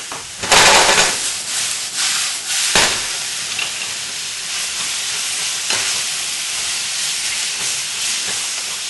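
Vegetable stir fry with tomatoes sizzling and hissing in a Teflon pan, loud and steady, with a few sharper scrapes and bursts as the mixture is stirred, no voices.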